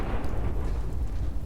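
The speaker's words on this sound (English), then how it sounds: "A nuclear explosion behind us." A nuclear explosion in the video game Fallout 4 roars as a steady, deep rumble that stays loud and even throughout, with no voices over it.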